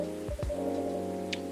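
Rain falls at night in Coffee Talk as a soft, steady patter and hiss beneath sustained mellow musical tones, with a couple of low thumps early and a brief bright chime near the end.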